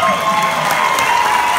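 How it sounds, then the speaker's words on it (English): Concert audience applause at a show, loud and continuous crowd clapping with a sustained tone ringing through it. "Give him a round of applause"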